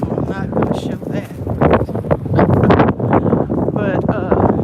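Strong outdoor wind near soccer fields buffets the microphone in a steady, rumbling roar with gusty swells, heard under continuous talking.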